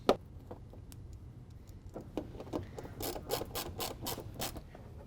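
A 7/32 screw is driven through a fender flare near the wheel well, heard as close ratcheting clicks and scraping turns that start sparse and grow busier, with bright rapid bursts toward the end.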